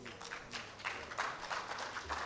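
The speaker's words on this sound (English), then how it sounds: "I want the conferees to just clap for themselves" Conferees at an evening fellowship conferment ceremony clap for themselves, a faint, steady patter of many hands heard from a distance with no speech over it.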